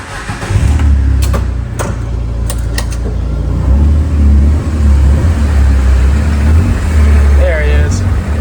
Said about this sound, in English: driving the tractor right now